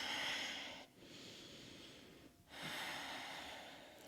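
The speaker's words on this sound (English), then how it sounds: "Breathing here." Slow, audible breaths during a yoga session, long airy inhales and exhales separated by brief pauses, close and very faint, with no talking.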